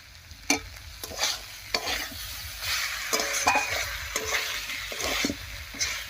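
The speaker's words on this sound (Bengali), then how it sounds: "লবণটা দিয়ে মিশিয়ে নিলাম।" Salt is stirred into spice paste frying in a pan for a vegetarian green papaya curry. A spoon scrapes and stirs in repeated strokes over a soft, constant sizzle, close up and with no talking.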